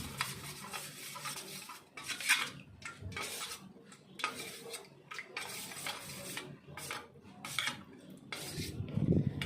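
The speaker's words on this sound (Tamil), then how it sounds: "இதை நல்லா மிக்ஸ் பண்ணி விட்டுக்கலாம்." A spoon works through a cornflour, flour, water and salt batter in a bowl, giving a quiet, continuous wet scraping and clinking at a close distance with no talking.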